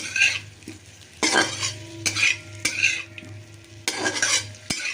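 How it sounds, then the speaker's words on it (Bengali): Potatoes fry in a pan in a home kitchen, with a steady sizzle broken by repeated close, loud bursts of a spoon scraping and stirring. "দেখো আলুগুলো মোটামুটি আমার ভাজা হয়ে গেছে আর একটু ভালো করে ভেজে নিই"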